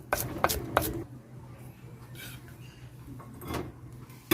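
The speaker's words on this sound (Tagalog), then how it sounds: "Chop pala tayo ng garlic." Garlic is chopped with a knife on a board: a quick burst of three or four close, crisp chops, then quieter scattered taps over low background noise, with no voices.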